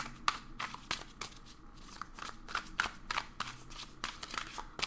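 Tarot cards being shuffled by hand, a rapid series of crisp riffling slaps and flutters repeating at an uneven rhythm, close and fairly quiet with no talk.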